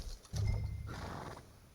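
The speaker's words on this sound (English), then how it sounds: "Is that our horse?" A horse in Red Dead Redemption 2 gives a short, fairly loud neigh over muffled hoof clops, then the sound fades into quiet background.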